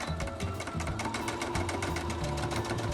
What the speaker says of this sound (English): put it in the sewing machine